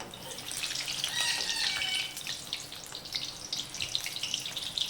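Mirchi bajji, gram-flour-battered chilli fritters, frying in hot oil, giving a bright crackling bubbling sizzle that is busiest early and then settles into scattered pops.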